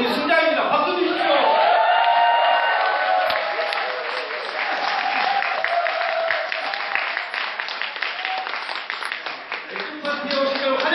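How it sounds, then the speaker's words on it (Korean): A large crowd at a beer party breaks into loud, sustained applause mixed with cheers and whoops, with voices calling out over the clapping throughout. "박수 주십시오"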